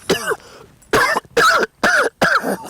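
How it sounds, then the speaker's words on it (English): Five sharp, loud coughs in a row, close up, each a short harsh burst separated by brief pauses. "And the pussycat started displaying the cough."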